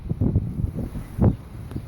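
Strong wind gusting through a permaculture garden in France, a steady low rumbling buffet on the microphone with louder bursts, no voices.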